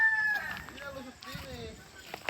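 A small backyard flock of five hens and one rooster, with a drawn-out crowing call and clucking close by, mixed with background voices.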